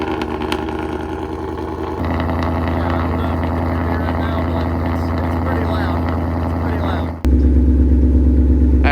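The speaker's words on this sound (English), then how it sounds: "let's start her up. This will be kind of a cold start." A car fitted with a Roush exhaust cold-starts, its engine idling loud and rumbling, then the deep exhaust note jumps sharply louder near the end as it revs, close and dominant throughout.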